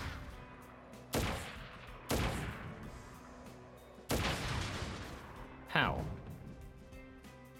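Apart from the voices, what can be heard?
sniper rifle shots at barrels in Crisis Core Final Fantasy VII video game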